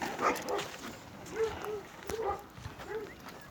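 An Anatolian shepherd dog lets out a handful of spaced barks at moderate distance, with quieter voices and rustling in the background between them.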